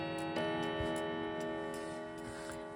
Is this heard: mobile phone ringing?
no